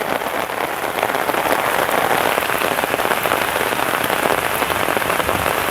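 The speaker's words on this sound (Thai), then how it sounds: "ฝนก็ตกเริ่มแรงแล้วแรงแล้วนะครับฝนเริ่มแรงแล้วนะครับ" Heavy rain pours down in Phatthalung, Thailand, in a dense, steady hiss and patter, close and loud, with no voices and no break throughout.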